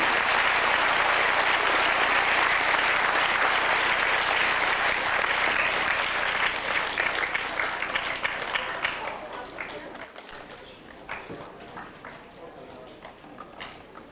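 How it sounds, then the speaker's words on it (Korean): An audience at a school anniversary ceremony applauds in a dense, loud wash of clapping that gradually thins and fades over about fourteen seconds, leaving scattered claps and room noise at the end. "다같이 힘찬 박수를 보내주시면 고맙습니다"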